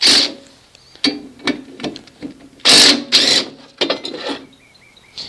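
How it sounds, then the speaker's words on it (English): A DeWalt power tool loosens mower blade bolts under a mower deck in a series of short, sharp mechanical bursts with brief pauses between them, close and fairly loud. "Let's see if the DeWalt can take these off."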